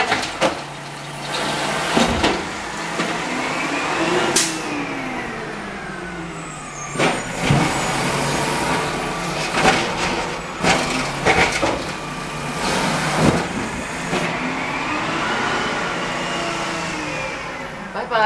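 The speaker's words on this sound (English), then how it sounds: "oh, this garbage truck" A garbage truck works outside a home with a continuous engine rumble, sharp hissing air-brake bursts and crunching, clattering impacts rising and falling over about eighteen seconds, with no one speaking.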